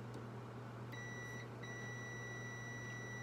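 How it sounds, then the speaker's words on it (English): A multimeter on continuity mode beeps while probing a stuck switch on a GE smooth-top range's hot surface light circuit: a thin electronic tone sounds once, briefly breaks off, then resumes steadily over quiet room hum. "I just got a beep indicating that this switch is closed"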